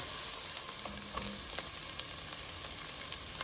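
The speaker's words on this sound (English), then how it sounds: "I'm going to saute these onions for a few minutes." Onions sauteing in a pan for matzo ball soup give a steady, close sizzle and crackle, with light scattered pops and no talking.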